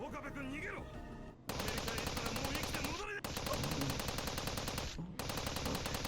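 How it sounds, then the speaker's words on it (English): Rapid automatic gunfire from a war scene in the Steins;Gate 0 visual novel: loud, dense bursts of shots that run nearly nonstop after a short opening with a voice, broken only by two brief pauses. "Sumiyama's scream was cut off by the sound of gunfire."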